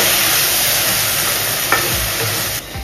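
Tomato paste frying in a pan gives a loud, dense, continuous sizzle with faint stirring scrapes, and it drops off slightly near the end.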